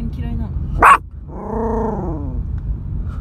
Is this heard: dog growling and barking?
yes